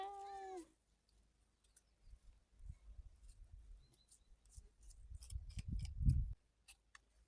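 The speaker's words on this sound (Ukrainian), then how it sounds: "Чого ти м'явкаєш?" A house cat gives one short, clear meow close by at the start, followed by soft rustling and shuffling movements in a quiet room.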